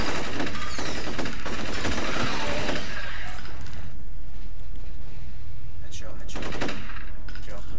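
Rapid gunfire from the video game F.E.A.R., loud dense bursts in the first few seconds, then a quieter gap, then another short volley near the end, with no talk.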